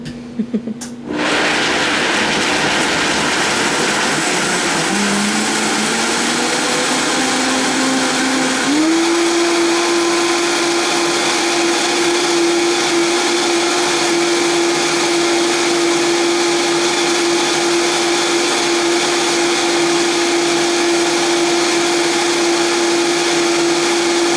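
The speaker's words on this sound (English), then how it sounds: "You can tell all the nuts are blended up really good, because when you stop the blender" A blender grinding nuts roars loudly and steadily throughout, its pitch rising as the motor winds up after a short start, then holding a constant high whine.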